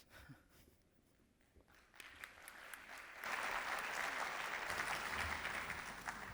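After a keynote presentation, an audience bursts into applause: scattered claps open, then dense, sustained clapping swells after about three seconds and continues strongly.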